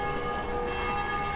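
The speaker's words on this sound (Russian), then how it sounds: "Боятся этих колоколов." Church bells ring in the video game Dying Light with a sustained metallic tone hanging steadily over a low background rumble, loud and continuous through the short moment.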